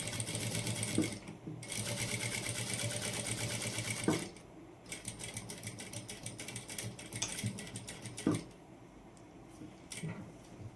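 A sewing machine stitches fabric lining in bursts of rapid mechanical rattling, pausing briefly between runs and then resuming.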